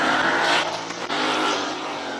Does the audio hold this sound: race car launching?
yes